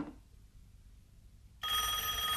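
A telephone starts ringing after a stretch of near silence, a sudden loud electronic bell tone that begins partway through and continues to the end.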